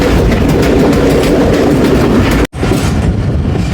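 Awam Express passenger train rolling on rails toward Attock City Junction, a loud, steady rumble and clatter heard from on board, briefly cut by a sharp dropout before the roar resumes.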